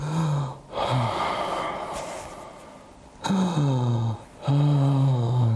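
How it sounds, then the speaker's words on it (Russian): Loud, deliberate breaths close to the microphone, long airy inhales and exhales with a raspy, voiced edge, repeated in a slow rhythm. "Я громко дышу специально, чтобы было непонятно было."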